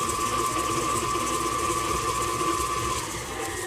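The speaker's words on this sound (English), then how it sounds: "Start the mixer on medium speed." An electric mixer runs steadily at medium speed, creaming butter and sugar for football cookies, a constant close whirring hum with no breaks.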